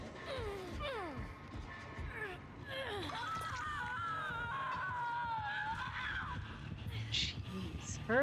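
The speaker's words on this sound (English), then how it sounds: "her scream is way too dramatic" A survivor's drawn-out, wavering scream in Dead by Daylight, rising and falling in pitch over several seconds amid game ambience, with someone talking during the clip.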